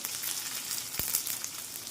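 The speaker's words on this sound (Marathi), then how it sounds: "मस्त असं दोन मिनटं आपण फ्राय करणार आहे" Curry leaves, green chilli, mustard seeds and cumin frying in a hot oil tempering for dal, giving a dense, steady close sizzle with one brief sharp tap midway.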